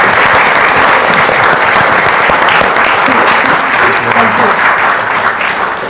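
A live audience after a talk and Q&A claps loudly and continuously in a dense, even wash of applause that tapers slightly at the close.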